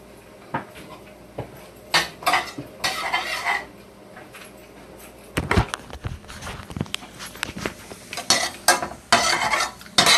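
A veggie burger mixture being stirred in a bowl with a utensil, giving irregular scraping and clinking strokes in bursts with short pauses, close up and without speech.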